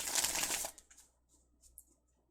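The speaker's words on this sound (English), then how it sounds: "Okay, I'll shuffle the cards." Tarot cards being shuffled close by, with a brief burst of dense riffling and flapping that stops abruptly, followed by a few faint taps and quiet handling.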